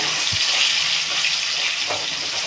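Potatoes with salt and turmeric fry in hot oil, a steady close sizzle with a faint stir or two, no talk.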